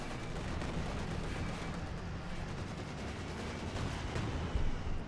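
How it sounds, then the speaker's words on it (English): Dense, booming battle noise from the strategy game Company of Heroes 2 as an IS-2 heavy tank fires its cannon at an enemy tank, continuous rumbling with a heavier thump near the end. "IS-2 shoots, good hit down the target tank."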